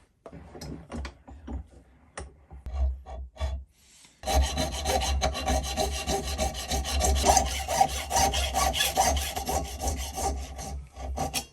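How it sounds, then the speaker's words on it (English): Hacksaw cutting through a metal gib bolt for a milling machine in a home workshop: a few tentative rasping strokes, a brief pause, then steady, loud, rapid back-and-forth sawing continuing to the end, with no talking. "we can just cut it with a hacksaw and we can clean it up."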